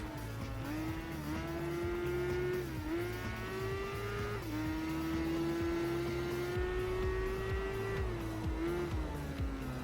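Motorbike engines race around Apricot Hill Raceway in the PS2 game Tourist Trophy (2006), a steady high-revving whine that dips briefly at each gear change and climbs again, loud and close with no talk.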